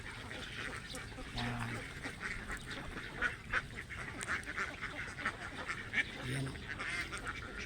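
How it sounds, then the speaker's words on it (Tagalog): Ducks crowd together outdoors near a shady tree on a hot day, their quacking and honking calls chattering steadily at mid distance while a person speaks briefly over them. "Dami itik"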